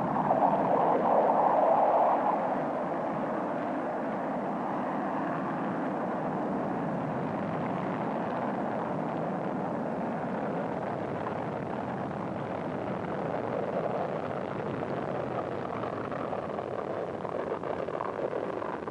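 Saturn rocket engines ignite at launch, producing a steady, distant, muffled roar with a dense rumbling hiss that holds at moderate level throughout, a brief louder surge near the start.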